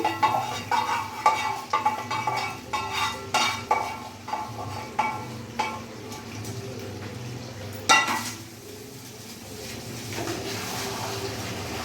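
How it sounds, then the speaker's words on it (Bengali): Chicken do pyaza stirred in a pan, rhythmic scraping strokes of a spoon against metal over a soft sizzle, slowing and fading toward the end. "আমি এবার ভালোভাবে মিশিয়ে নেব"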